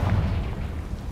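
A Confringo blasting spell explodes in Hogwarts Legacy, a heavy low boom with a rumbling tail that stays loud through the whole short moment.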